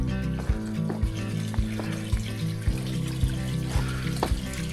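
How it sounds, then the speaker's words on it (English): Spring water pouring from a pipe beside the Appalachian Trail in rainy weather, a steady trickling wash with a low droning hum and soft regular thumps running throughout. "there's the pipe spring"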